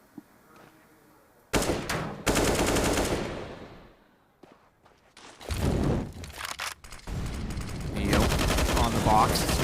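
Automatic rifle fire in Counter-Strike on the Dust2 map at a pro match, with loud bursts of rapid shots in several clusters separated by quieter gaps, and faint casting voices beneath.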